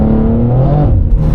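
A 2024 BMW M2 accelerates hard with its tires breaking loose, giving a loud, close, steady engine roar with a rising tone over a short burst.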